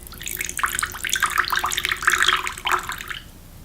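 A small stream of water trickles and splashes into a little pinch pot, measured out for homestyle white bread dough. It is close and steady, with brief gurgling bursts, and no talking.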